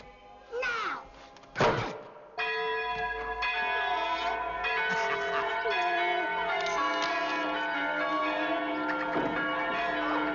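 Church bells ring out in a period comedy scene, a sustained clangour of overlapping tolls with dull thumps and a door-like slam near the start, loud and continuous with faint voices underneath.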